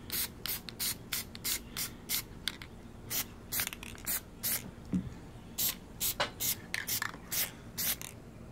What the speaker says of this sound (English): your first coat should be just a light mist coat